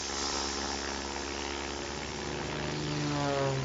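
A steady, droning airplane engine hums continuously in a Sonic video game, with a faint rising whine near the end and no voices.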